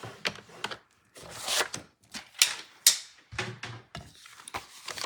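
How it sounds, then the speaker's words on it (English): A paper trimmer scores grape-colored cardstock in a run of sharp scraping strokes and clicks, close and crisp, with short pauses between the passes and no talking. "I'm going to take this and score it, since I forgot to, at 4 1/4."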